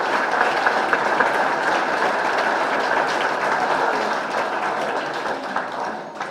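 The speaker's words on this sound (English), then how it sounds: "they deserve a huge round of applause" Sustained applause from a large dining room crowd at a club victory dinner dance, a dense, even roar of many hands clapping that holds steady for several seconds with no talk over it.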